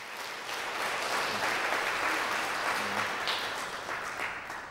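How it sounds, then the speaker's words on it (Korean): Welcoming applause from a Sunday worship congregation at a church, a thick continuous roar of many hands clapping that swells and holds, then eases slightly near the end. "여러분들 환영의 박수 부탁드리겠습니다."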